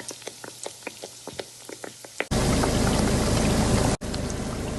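Donuts frying in hot oil, first a sparse series of small pops and crackles, then a sudden loud dense bubbling sizzle that keeps going, briefly cutting out once, with no talk.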